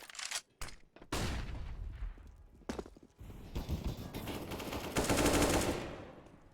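Rapid rifle fire, including an AK, crackles in a CS:GO match, with sharp bursts and single shots scattered across several seconds and a sustained volley near the end, fairly faint overall.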